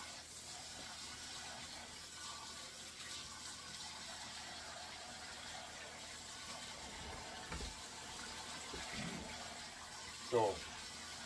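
Tap water runs in a soft, steady stream while a homemade sweet green relish jar is rinsed, with a small clunk near the end; the flow stays faint and even throughout.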